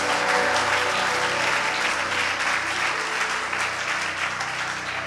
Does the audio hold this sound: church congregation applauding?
yes